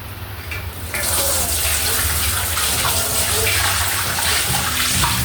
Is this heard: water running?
yes